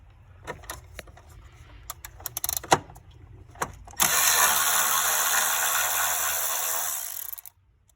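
A hand ratchet clicks in short bursts while loosening 10 mm bolts on a Chevy Cruze during a thermostat housing job, followed by a long steady hiss-like whir of rapid ratcheting that stops abruptly near the end.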